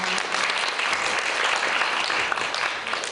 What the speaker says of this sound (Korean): 입상한 팀에게 큰 박수 부탁드립니다